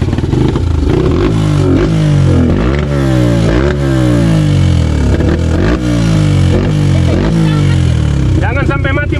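A dirt bike engine on a trail-riding session with a young beginner rider revs up and down through clutch and throttle, loud and close, its pitch sweeping in repeated surges, with voices talking nearby.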